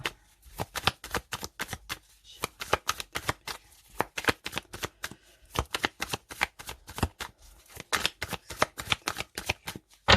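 A Golden Universal Tarot deck is shuffled up close, a long run of rapid, rhythmic card slaps and riffles with brief pauses between bursts, and no voices.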